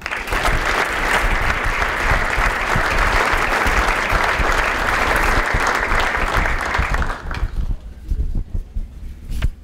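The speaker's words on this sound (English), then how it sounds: "let's give a big round of applause for Team Maine 2017" An audience at a university scholar-athlete awards ceremony claps in a dense, sustained round of applause that fills the room for several seconds before thinning into scattered claps.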